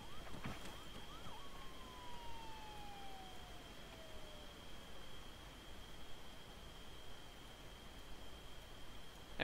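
A faint, distant siren wails in a slow falling sweep against a steady background hiss, with a high constant tone running throughout.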